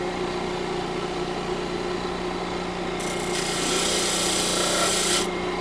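A power sander hums steadily as the bottom of a live-edge walnut bowl is pressed against it, and a loud, even rasp of wood on abrasive rises over the drone for a couple of seconds before stopping.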